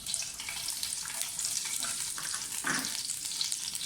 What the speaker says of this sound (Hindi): साथ ही इसमें साबुत लाल मिर्चें और साबुत मसाले जो हैं वो डाल दें।